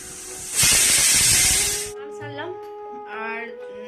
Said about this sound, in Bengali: এখন একটু গরম জল বসালাম, ছেলে স্নান করবে।